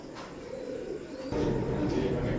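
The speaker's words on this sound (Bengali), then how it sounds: "তো ভিউয়ার্স, স্ক্রিনে এখন যে কবুতর জোড়া দেখতে পাচ্ছেন, এটাও টেডি 128-এর এক জোড়া বেবি" A pair of baby Teddy 128 pigeons with two feathers coo nearby in low, soft rolling calls that swell midway and carry on steadily.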